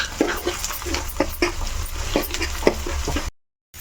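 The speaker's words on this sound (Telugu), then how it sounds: "ఇవన్నీ చక్కగా వేగాలి బ్రౌన్ కలర్ వచ్చేంత వరకు" Spices and dried red chillies frying in oil, a close crackling sizzle with frequent small pops throughout before cutting off abruptly.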